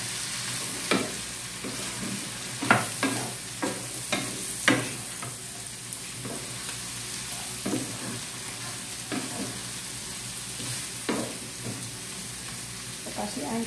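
Long-sliced squash stir-fried in a pan: a low, steady sizzle with repeated sharp scrapes and clacks of a spatula, irregular and close, with no voices.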